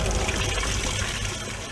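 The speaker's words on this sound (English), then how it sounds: "The solar-powered pumps bring up cold water from a depth of 3 meters." Cold water drawn up from about 3 meters deep by a solar-powered pump, inspired by Schauberger vortex technology, flows and trickles in a steady, close, continuous wash with no voices.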